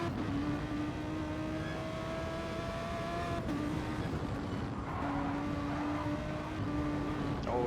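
Onboard engine of a BMW Gr.3 race car in a racing video game at Laguna Seca, a sustained droning engine note that shifts pitch as the car brakes, fairly quiet and steady throughout.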